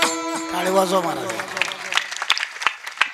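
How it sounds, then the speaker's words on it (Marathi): Brisk applause breaks out from the audience at a humorous kirtan, rising right after a sung line and continuing as sharp, irregular claps while the voice fades. "टाळी वाजवा महाराज"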